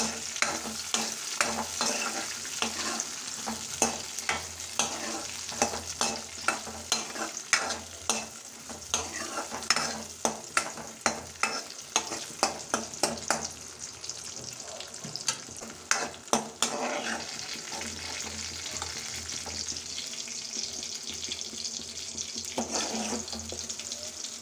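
Coconut pieces sizzle in hot ghee in a pan for moong dal payasam, with a busy clatter of stirring through the first two-thirds before the frying settles into a steady hiss.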